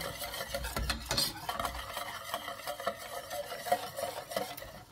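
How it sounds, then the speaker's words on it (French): A homemade chocolate flan-style cream mixture with cocoa is stirred as it heats in a pan, with a steady scraping and swirling of the spoon against the metal and a faint simmer underneath, continuous and close. "on met tout ça à chauffer pendant, allez, on va dire 5-6 minutes environ, en remuant pour bien faire fondre le cacao"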